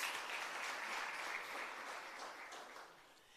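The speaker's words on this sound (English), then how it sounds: "Can you give her a round of applause?" Audience at a MICT SETA capacity-building workshop and virtual expo in the Free State gives a steady round of clapping, dense and continuous, slowly fading toward the end.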